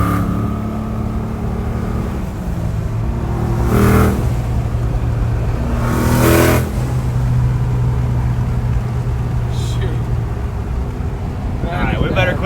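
A twin-turbo 1000 hp RAM 1500 pickup engine growls loudly nearby, surging in two sharp acceleration bursts over a rumbling idle, with people talking around it.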